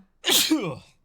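A single loud person's sneeze, a sharp burst with a short intake before it and a voiced tail trailing off, heard close up, with no other talk.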